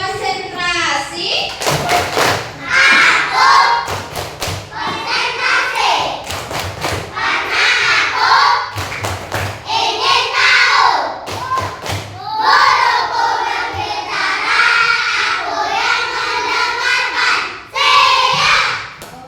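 A class of third-grade primary school children performs a concentration clapping game as an icebreaker, with bursts of rhythmic group claps and thumps mixed with children's chanting voices filling the room.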